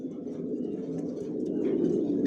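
Original Johnson red checker racing pigeons coo softly and continuously inside a loft, a low, steady murmur with no voices.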